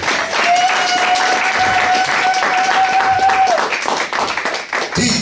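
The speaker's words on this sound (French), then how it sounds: "Applaudissez pour la gloire de Dieu." Congregation at a healing crusade clapping in a steady, loud wash, with a held tone and some voices mixed in before the clapping thins near the end.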